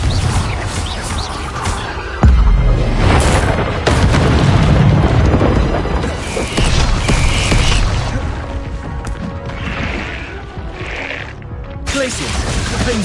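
Confringo spell explosions in Hogwarts Legacy, loud booming blasts and crashes recurring through dense game combat, with a voice talking over the action.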